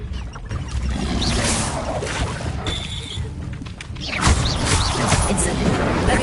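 The Expelliarmus spell cast in a Harry Potter video game on PS4, a loud, dense rushing blast that surges, briefly thins, then swells again with a heavy burst.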